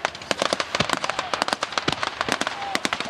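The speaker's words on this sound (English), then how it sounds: "Going to try and deploy to launch his rockets towards the enemy." Rocket launch pyrotechnics at a WWII battle reenactment at the Victory Show, heard as a dense, rapid crackle of loud pops and bangs with no pause, like a long string of firecrackers.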